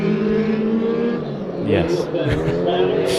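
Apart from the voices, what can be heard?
race cars racing in a heat race at Bakersfield Speedway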